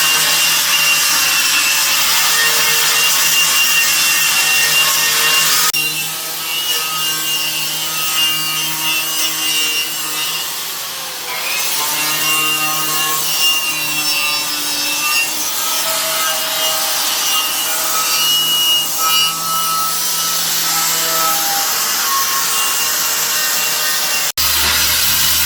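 Orange body filler on a car body panel is sanded down in a loud, continuous abrasive rasping that shifts in intensity partway through, close up with no voices.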